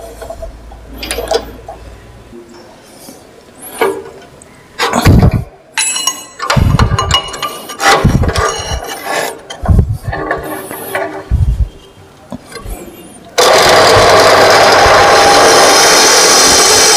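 Light-duty drilling machine for small holes: clanks and knocks of handling and setup, then the motor starts and runs with a loud steady whir at the end.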